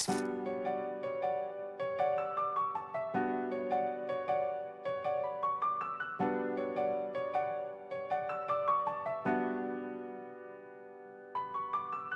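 Piano chords repeat in a simple, steady pattern, each struck chord ringing out before the next, played alone and clearly with a gentle rhythm.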